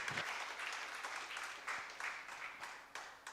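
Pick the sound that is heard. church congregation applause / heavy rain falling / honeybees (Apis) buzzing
church congregation applause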